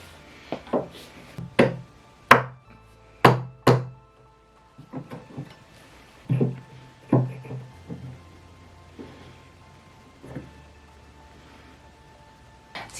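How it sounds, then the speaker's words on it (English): Rubber mallet strikes and a putty knife prying at the foot of a wooden buffet: a series of sharp, close knocks in irregular bursts with short pauses and faint scraping between them, no talk. "I'm gonna try and get this off just using my rubber mallet and"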